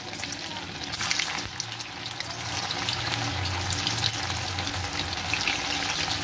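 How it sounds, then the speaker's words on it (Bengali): Soybean chunks fry in hot oil in a kadai, giving a steady, close sizzle with bubbling crackle throughout and a slight rise in intensity after the first second. "এবার এগুলো আমি সোয়াবিনগুলো ছেড়ে দেবো, ছেড়ে ভেজে নেব।"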